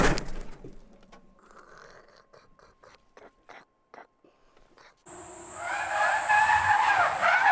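Car tires skid and squeal loudly after the brakes lock with the ABS failing on a mountain pass road, preceded by quieter engine and road noise and faint whispering before the sudden shrieking slide.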